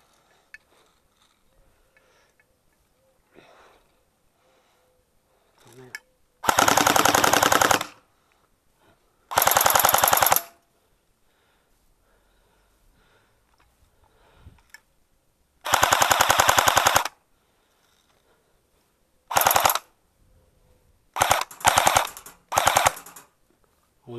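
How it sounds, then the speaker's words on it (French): STG44 (MP44) airsoft gun firing BBs at an iron plate: several sharp full-auto bursts, some long and some short, separated by near silence, with faint clatter between them. "On entend le bruit des projectiles sur la plaque de fer, un petit peu en décalé."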